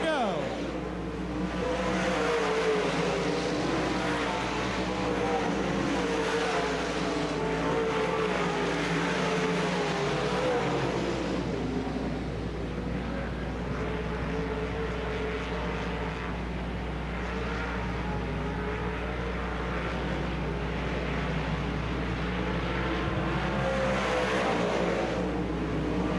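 Race cars roar steadily around a dirt speedway at a 1996 UMP Summer Nationals event at Davenport Speedway, a continuous distant engine drone with a commentator talking over it throughout.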